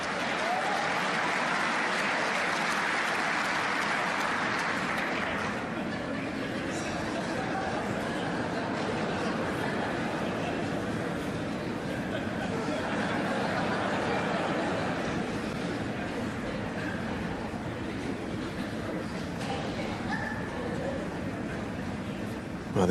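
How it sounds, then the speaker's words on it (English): A snooker crowd at the German Masters final applauds steadily for over twenty seconds, with laughter and murmuring mixed into the clapping, which fades slightly midway and then holds on. "the crowd have thoroughly enjoyed that moment"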